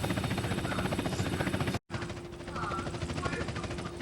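Continuous whirring rotor drone of a video game helicopter descending, with steady mechanical pulsing, loud and close, briefly cut to silence partway before resuming, with faint talk underneath.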